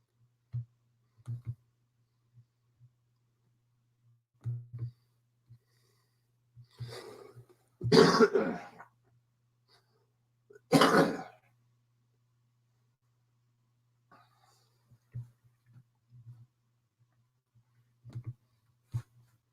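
Two sharp, breathy sneezes burst out a few seconds apart, close and fairly loud, against a quiet background with faint clicks and a low steady hum.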